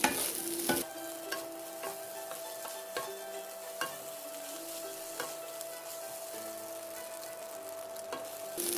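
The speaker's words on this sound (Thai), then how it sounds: "ผัดไปจน แห้งนะคะ ข้าวก็จะมีกระเด็นแล้วนะคะ" Crab fried rice being stir-fried in a pan over moderate heat, a steady soft sizzle broken by regular spatula scrapes and taps against the pan, close and alone with no voices.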